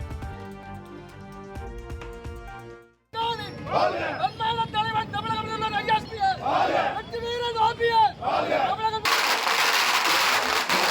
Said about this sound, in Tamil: தேனியில் ஓபிஎஸ் ஆதரவாளர்கள் பட்டாசு வெடித்து மகிழ்ச்சி